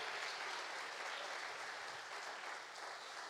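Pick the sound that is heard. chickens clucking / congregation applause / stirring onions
congregation applause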